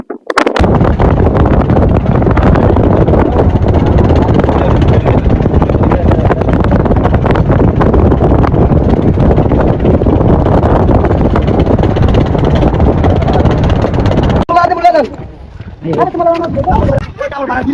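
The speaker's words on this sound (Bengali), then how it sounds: "এখানে কিন্তু অনেক বাতাস" Strong wind by the Meghna river roars and buffets the microphone in a loud, unbroken rush, easing near the end as a voice briefly comes through.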